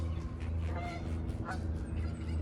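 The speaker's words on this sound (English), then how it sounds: "There's Canadian geese flying over." Canada geese flying overhead honk faintly in a scattered series of calls from a distance, over a steady low rumble.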